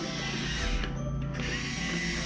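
A cheap toy power drill driving a plastic bolt on a kids' play set gives a steady whirring, ratcheting motor buzz, with a short dip in the middle and no talk.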